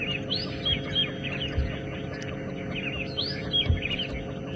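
A grey go-away bird calls during an early-morning safari drive, a series of chirping calls repeating over a steady low engine-like hum, moderately close and alone without talk.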